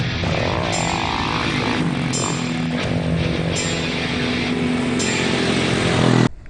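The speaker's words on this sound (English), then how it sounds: "Take a little ride on the DLX." A 2019 RPS Hawk DLX 250 motorcycle is ridden with its engine droning close and loud. The pitch rises and falls through several gear changes and revs, with no talking.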